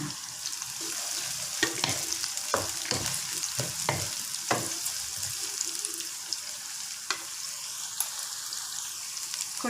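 Ginger, garlic, green and ripe red chillies and curry leaves fry in hot oil for a mutton curry, a steady close sizzle broken by sharp stirring scrapes and clinks, with no voices.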